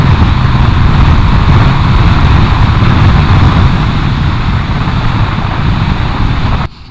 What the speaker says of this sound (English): This is a fantastic engine.